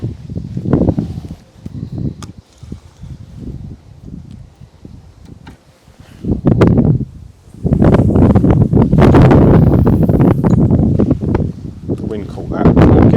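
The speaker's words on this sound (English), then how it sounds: "The wind caught that." Gusty wind buffets the microphone at a lakeside fishing peg during a match: a low rumbling roar comes and goes early, then a loud, sustained broadband blast dominates the second half.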